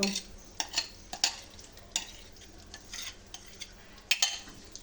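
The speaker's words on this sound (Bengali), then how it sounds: "মশলাটা আমি কষাচ্ছি।" Biryani spices are being sautéed in oil, a spoon scraping and clinking against the pot in irregular bursts over a soft sizzle, close up and with no talking.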